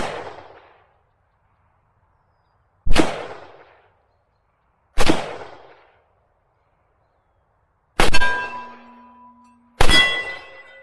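Five separate rifle shots from a Century Arms AK47 ring out at steel targets during accuracy shooting, each a loud sharp crack with a metallic clang and decay, spaced a few seconds apart with silence between.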